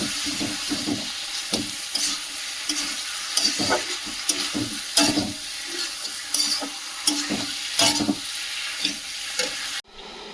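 Vegetables with tomato and spice paste frying in a pan for a fish and potato curry, a continuous close sizzle broken by repeated stirring scrapes and clatters, ending with a sharp drop.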